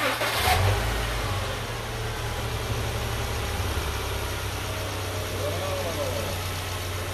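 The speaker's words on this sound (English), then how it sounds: "on the count of three, our first startup with AMSOIL" A 2011 Subaru Outback with a 2.5L engine starts with a short burst, then settles into a steady, smooth idle hum that runs on evenly, heard close.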